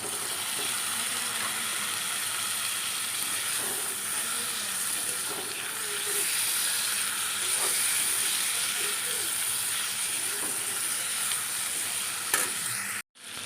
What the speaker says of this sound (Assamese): এতিয়া ইয়াত মই ৰাখি থোৱা মাংসখিনি ঢালি দিছোঁ।